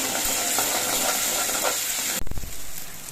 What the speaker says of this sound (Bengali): এবার পোস্ত কাজু বাদাম দিয়েও কিছুক্ষণ কষিয়ে নিতে হবে